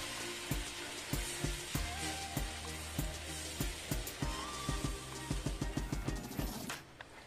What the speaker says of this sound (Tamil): இப்போ 1 கப் அளவு வெள்ளைப்பாகு வச்சிருக்கேன், அதை இதோட ஊற்றிக்கிறேன்